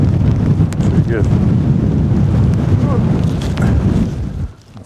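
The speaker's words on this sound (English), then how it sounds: "It's in the wind. There's nowhere out of the wind" Strong wind at an exposed wild camping spot in winter, a loud, continuous, rumbling buffet across the microphone that drops away sharply at the very end.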